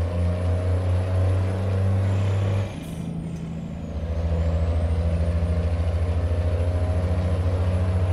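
Volkswagen Beetle engine in a driving video game, a steady low throbbing drone that cuts out briefly partway through, then returns with a stronger, pulsing hum. No talking.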